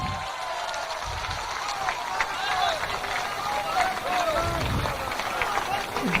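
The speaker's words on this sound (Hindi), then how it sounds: "मैं एक बार चाहूंगा कि सब लोग ताली बजाकर स्वागत कीजिए" A crowd claps at a Jan Suraaj party political event in Bihar, welcoming its acting president. The applause is a continuous, moderately loud patter of many hands, with some voices mixed in.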